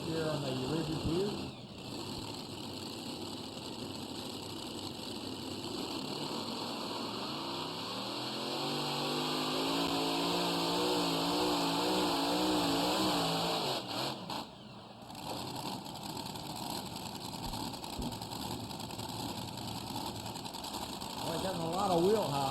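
A pulling tractor at the 2016 Arcola tractor pull drones loudly and steadily over about twenty seconds, its engine note wavering and rising mid-run with a brief dip near the end, while people talk over it.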